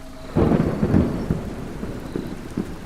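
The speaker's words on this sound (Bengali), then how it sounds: "বাইরের প্রবল বজ্রপাত সহ ঝড় বৃষ্টি" A thunderstorm with heavy rain, where a loud rumbling thunderclap breaks in after a moment and fades into a steady patter of rain with a few smaller rumbles.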